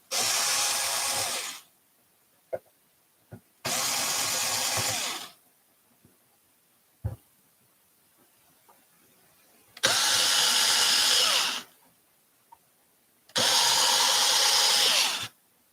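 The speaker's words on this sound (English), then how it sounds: "we'll go ahead and replace these screws" Power drill driving replacement screws into the case of a Cobra 148GTL CB radio during restoration, four sustained whirring bursts of about two seconds each with brief clicks between, close and loud with no talk.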